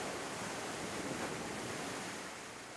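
Ocean swell and breaking waves surge over a flooded town quay at an exposed anchorage off Albert Town in the Bahamas, a steady, loud, broadband roar that fades slightly toward the end, with no voices.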